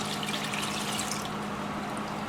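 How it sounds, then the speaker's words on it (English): Half a gallon of water poured into a pot to make slime, a steady broadband splash and trickle that runs continuously at close range with no pauses. "I'm going to dump in another half gallon of water."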